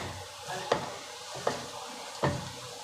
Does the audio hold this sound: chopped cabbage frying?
yes